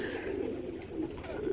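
A jamnu-necked pigeon coos close by in a steady, low burbling run that carries on without a break for the whole stretch, with no voices or other sounds over it.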